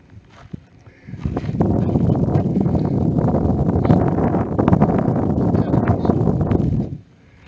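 Wind gusting hard into a microphone outdoors at a desert proving ground, a loud low buffeting roar that starts abruptly, holds for about six seconds, then cuts off, with faint talk nearby.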